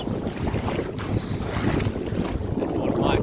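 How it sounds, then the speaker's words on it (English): Strong wind gusts roar steadily across the microphone outdoors near water by a boat, a dense continuous buffeting that stays loud throughout with no talking. "Wind needs to calm down. It's so blowy."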